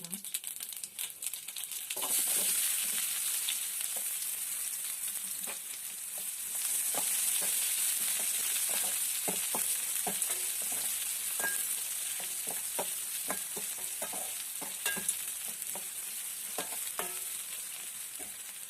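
Chopped onions and chillies sizzle in a pan with mustard seeds, a steady frying hiss broken by frequent small crackles and stirring sounds, close and moderately quiet.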